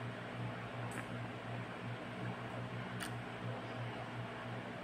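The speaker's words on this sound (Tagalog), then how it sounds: "Baka gawa ng ang ingay namin electric fan" Electric fan running in a court building office in Catanauan, Quezon, a steady low hum with a constant whooshing hiss, quiet and continuous, with a couple of faint brief ticks.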